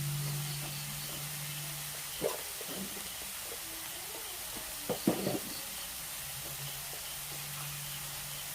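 Broken-egg omelette masala frying in a pan, giving a faint, steady sizzle and hiss with a few soft stirring scrapes and clinks.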